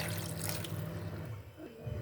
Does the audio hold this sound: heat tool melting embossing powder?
no